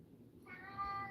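A house cat gives a short, close meow that rises and holds briefly, fairly faint against a low room rumble.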